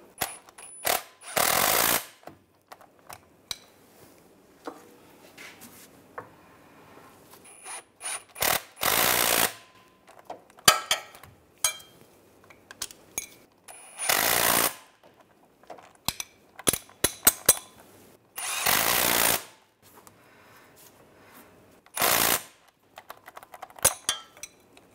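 An impact tool tightens the wheel hub bolts on a 2003-2008 Infiniti FX35 during a rear wheel bearing and hub replacement, with several short, loud bursts of rattling hammering separated by quieter clicks and shop handling noises.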